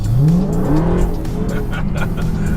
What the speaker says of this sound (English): Here's the best part of the car. Listen to this.